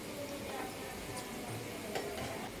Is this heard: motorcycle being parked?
no